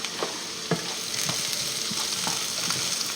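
Pan-fried potatoes with parsley are stirred in a hot pan, giving a steady bright sizzle with occasional soft scraping knocks from the utensil, close and unbroken by speech.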